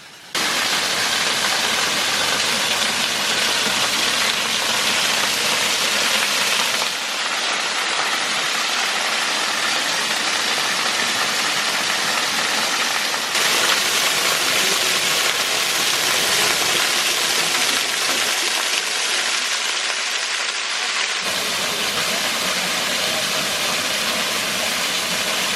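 The Kbal Spean waterfall near Angkor pours in a loud, dense, unbroken rush of water that fills the whole stretch without pause.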